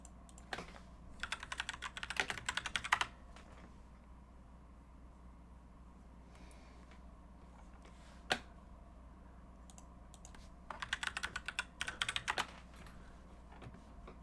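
Computer keyboard keys are typed in short bursts of rapid clicking, pausing between flurries, with a single isolated keystroke midway, close and moderately loud over a faint steady background hiss, no talking.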